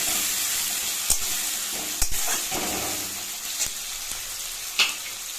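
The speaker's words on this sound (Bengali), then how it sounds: "এবার এর মধ্যে দেবো টমেটো কুচি। নেড়ে চেড়ে টমেটোটা গলিয়ে নেবো।" Chopped tomato frying and being stirred in a pan for a Bengali fish curry, continuous sizzling with several sharp spatula knocks and scrapes spread across the clip, close up and without speech.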